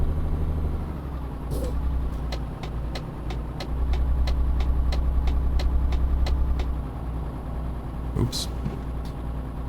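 Heavy truck in Euro Truck Simulator 2 cornering hard, its running gear giving a rapid series of sharp clicks and rattles over a steady low engine drone, with a voice speaking briefly.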